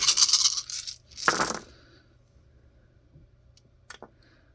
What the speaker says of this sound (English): they'll be rolling 48 dice, looking for 5